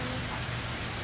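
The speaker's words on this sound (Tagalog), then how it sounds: "Ulan na naman." Steady rain falls outdoors in the Philippines during rainy season, a soft, even hiss of moderate loudness with no breaks.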